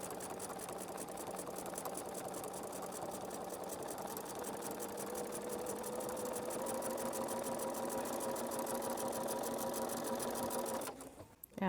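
Domestic sewing machine running a serpentine stitch across a quilt, a steady rapid mechanical whir and needle chatter that runs continuously, then cuts off abruptly near the end.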